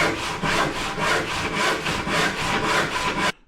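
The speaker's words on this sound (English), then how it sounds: "This is a piece of 6x2 that I had kicking around, so I'm going to cut it something like" A handsaw cuts through a piece of 6x2 timber, with close, loud, rhythmic rasping strokes that end abruptly.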